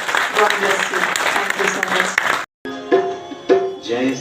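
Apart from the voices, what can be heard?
audience applause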